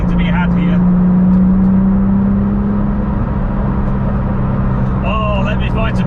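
Porsche 911 996 GT2 Clubsport with a manual gearbox driving, a loud steady engine drone with a sustained tone that holds then fades into road roar, with faint tyre and wind whir and brief chirps near the end.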